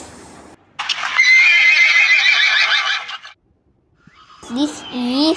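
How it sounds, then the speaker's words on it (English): A horse gives a loud, clear whinny lasting about two seconds, then falls silent before a voice speaks. "Horse."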